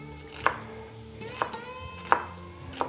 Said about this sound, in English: We got a half a sweet onion here we're just gonna chop up.